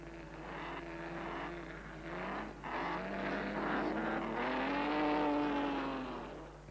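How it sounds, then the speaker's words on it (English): A vintage Alfa Romeo race car of the Silver Arrows era drives past, its engine a steady droning whine that rises and falls in pitch, moderately distant and faint under a hissy old recording. "Antonio Brivio brings his Alfa Romeo into the pits for fuel and tires."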